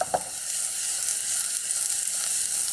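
Chopped onions sizzling in hot sesame oil over a very high flame, a loud, steady, close frying hiss that runs unbroken with a faint stir at the start, no voices.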